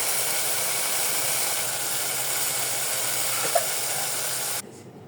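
Potatoes go into a pan of spiced masala with garlic, cumin paste, turmeric, chili, coriander and salt, giving a steady broadband sizzle with a small clatter near the end before the sound cuts off abruptly.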